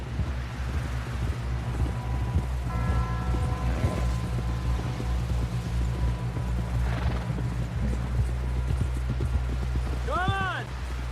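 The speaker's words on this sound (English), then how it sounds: "Someone help John down off this horse" In Red Dead Redemption 2, a horse's hooves clip-clop steadily alongside creaking tack and other mechanical clatter, played at a low level with game voices talking over them.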